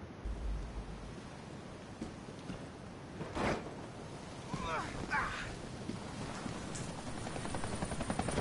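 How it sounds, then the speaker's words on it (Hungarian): Helicopter rumble in the video game Deadlight, a low wind-like wash throughout with a couple of sharp whooshes in the middle, fairly quiet under a voice talking. "Amúgy ezzel a helikopterről kell elmenekülni"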